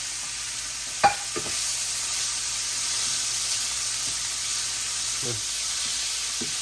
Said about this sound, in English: Keep stirring it up.